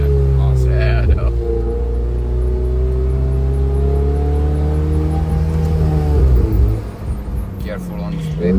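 A Ferrari F80 engine drones at a steady pitch, then drops with a sharp downshift blip and picks up again toward the end, close and loud under people talking.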